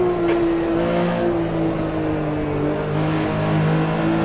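Porsche 911 RSR 3.0 race car powering out of a curve at the 1970s Österreichring in the Automobilista 2 racing game, its flat-six engine a steady loud drone at high revs, alone with no talking.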